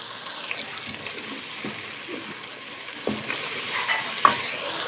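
Yogurt goes into frying keema and is stirred in, a moderate wet sizzle under repeated scraping spoon strokes, growing a little louder toward the end, with no talk.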